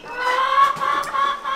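Chickens cluck close by on a snowy farm, a short run of rapid, overlapping squawks and clucks, fairly loud with no talk over them.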